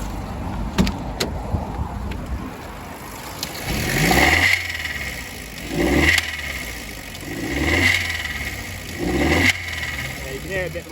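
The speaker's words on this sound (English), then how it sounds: "Let's give it a rev." A parked Nissan Juke with a slight engine noise is revved four times in a row: each rise and fall of engine pitch is loud and close, with brief idle dips between the revs.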